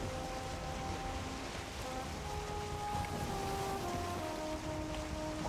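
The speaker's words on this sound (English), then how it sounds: "as soon as we're about to get here, it starts pouring rain" Steady pouring rain in the video game Valheim, a constant hiss of falling drops at moderate level with faint tonal music lines running underneath.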